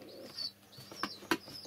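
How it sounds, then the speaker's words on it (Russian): Pigeons coo softly inside a room, a few low throaty calls with faint chirps and a light flutter, close and quiet with no talking. "И у меня даже в комнате голуби"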